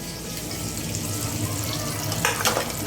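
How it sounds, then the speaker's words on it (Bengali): Sliced eggplant (brinjal) frying in a pan in a home kitchen, a steady close hiss and crackle running throughout with a brief brighter burst near the end. "এই দেখো এখন আমি এই যে বেগুন ভাজছি"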